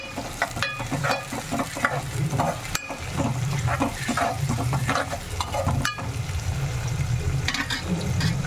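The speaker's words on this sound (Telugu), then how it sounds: "ఆనియన్స్ ఫ్రై అవుతున్నాయి కదా" Onions with a pinch of salt frying for chicken curry, giving a steady sizzle in the pan. Occasional stirring scrapes and clinks run over the top, close and fairly quiet, and nobody is talking.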